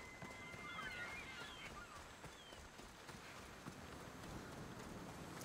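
Galloping horse hooves in the Assassin's Creed Odyssey video game, a faint, steady clip-clop rhythm carrying a rider under low ambient game sound.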